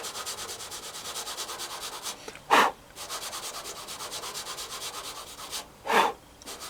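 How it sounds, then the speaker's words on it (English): Light strokes of 1000 grit sandpaper rub over the clear coat of a car bonnet where it is peeling, a soft rhythmic whisper punctuated by two louder, brief rasping passes, close and with no talk. "I'm going to rub this very lightly over there to try and get rid of it."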